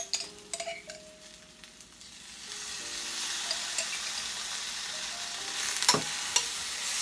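Minced garlic sizzles in a pan with pork and mushrooms as a utensil stirs through it, a steady close frying hiss building with occasional scraping clinks near the end.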